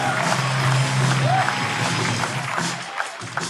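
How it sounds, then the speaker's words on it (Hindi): Applause and cheering from a stand-up comedy audience at a roast show, a dense, steady wash of clapping that runs through the whole moment and fades slightly toward the end. "शीजा चतुर्वेदी के लिए जोरदार तालियां दोस्तों"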